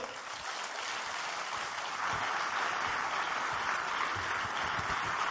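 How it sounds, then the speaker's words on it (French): A large audience applauding Philippe Croizon at an evening event, a dense steady roar of clapping that swells slightly after two seconds and holds loud to the end. "tonnerre d'applaudissements pour monsieur Philippe Croizon"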